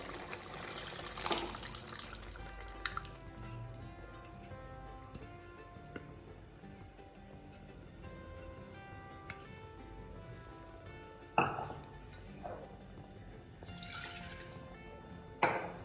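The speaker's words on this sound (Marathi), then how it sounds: "आता आपण जी उकडून घेतलेली डाळ आहे ती यामध्ये टाकायची आहे." Boiled dal is poured into a pot of sambar, making soft wet drips and a gentle trickle, quiet and close, with a few sharper clinks and splats scattered through.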